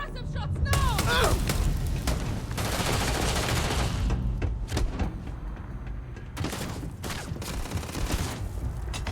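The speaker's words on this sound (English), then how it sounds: "Suppressive shots now!" Gunfire in the Starfield video game: bursts of rapid shots and booms fill the scene loudly and continuously, with dense overlapping blasts and a few sharper individual cracks near the end, mixed with a game voice.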